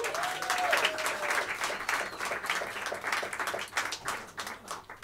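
A jazz club audience applauds as the musicians take the stage, steady close clapping from many hands that slowly thins toward the end, with a brief whistle near the start.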